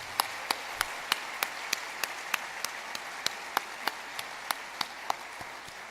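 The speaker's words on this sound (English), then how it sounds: "Let's give this outstanding team a resounding round of applause." An audience at a city mayor's State of the City address in Colorado Springs claps, sounding sparse and faint with a few sharp individual claps standing out in a loose, regular rhythm.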